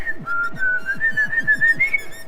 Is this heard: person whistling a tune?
yes